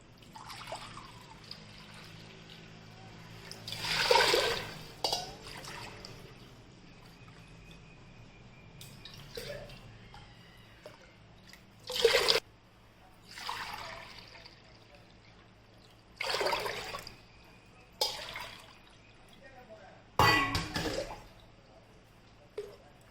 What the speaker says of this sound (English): For this we will add 4 to 6 bowl of water.